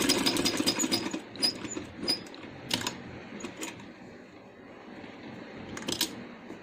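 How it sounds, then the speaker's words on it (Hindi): A sewing machine stitches a hand-made baby boy's dress in short, clattering runs of rapid needle strokes, loud at first and then fainter with pauses, close and without talk. "इसको यहाँ से हम डबल सिलाई लगाएंगे।"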